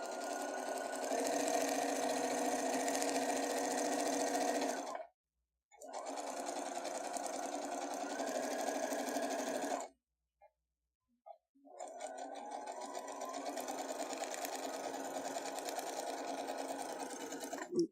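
A sewing machine stitches fabric in three long, steady runs of rapid mechanical whirring, close and clear, separated by brief silent pauses.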